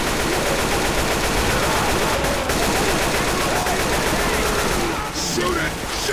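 Continuous automatic gunfire in Left 4 Dead 2, a dense, unbroken rattle of shots filling the whole stretch at high volume during a fight against a Tank, with faint voices underneath.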